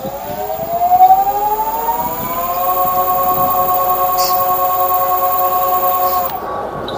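A steady Teamgee H6 electric skateboard motor whine at top speed in low speed mode rises in pitch, then holds a high tonal hum with faint rolling noise, cutting off near the end.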